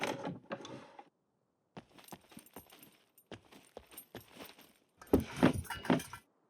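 Metal bolts being picked up in the survival game SCUM, giving a series of short clinking, rattling metallic clicks in irregular bursts separated by silent gaps, with a denser jangle at the end.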